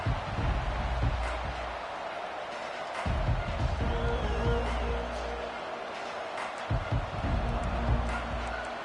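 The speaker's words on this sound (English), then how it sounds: "this crowd coming to life here, trying to help the defense get a stop" A football stadium crowd roars steadily throughout, a dense wash of cheering and noise that swells in places, with a voice talking over it.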